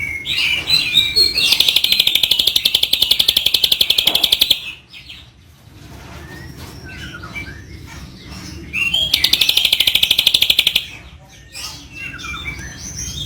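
Songbirds at an Indonesian birdsong contest in Bandung pour out two long, loud bursts of rapid, piercing chirping trills, separated by quieter intermittent calls over a busy background murmur.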